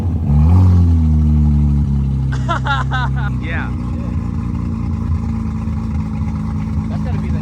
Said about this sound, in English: That's gotta be the nastiest sound GTR I've ever heard.